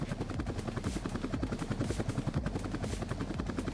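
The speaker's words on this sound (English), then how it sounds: "Is that a helicopter?" A helicopter flies overhead with a steady, rhythmic rotor thump. The pulse repeats fast and evenly, quiet and continuous with no voices over it.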